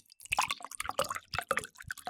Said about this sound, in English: Let me pour you a glass.